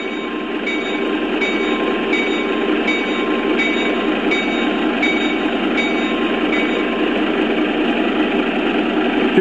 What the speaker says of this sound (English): Or you can do a continuous bell like this.